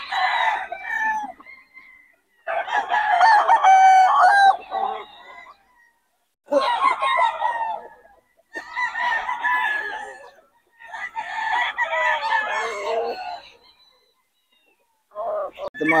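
Roosters crowing loudly in long repeated bursts with clucking between them, close by at a cockfighting farm, separated by short silent gaps; someone talks faintly at times.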